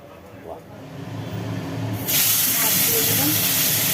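Small rohu fish hit hot oil in a wok, and after a quieter stretch a loud, steady hiss and sizzle takes over and holds.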